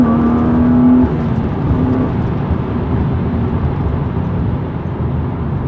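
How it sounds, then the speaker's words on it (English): Engine of a modified BMW 328i E36 with an M50 engine and M52 intake, accelerating in first gear as the revs rise and hold in a loud, steady, rough drone, close and alone, with no talking. "So I've switched the camera around so we can do a first, second and third pull. I'm just going to drop it down into first."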